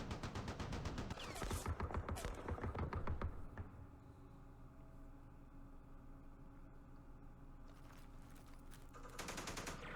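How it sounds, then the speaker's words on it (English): A heavy or anti-aircraft machine gun in Campaign Series Vietnam, at the Battle of Khe Sanh Village 1968, fires rapid rattling bursts at the start and again near the end, with a faint hiss between them and no voices. "That's probably an anti-aircraft machine gun or a heavy machine gun or something"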